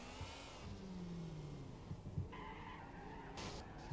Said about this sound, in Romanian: Asta mă lovește cu mașina.